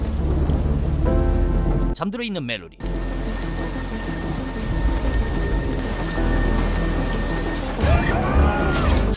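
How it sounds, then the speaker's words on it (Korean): Steady rain pours throughout with low thunder rumbling underneath, while a person narrates over it and music plays faintly. "다행히 비가 오기 시작하고"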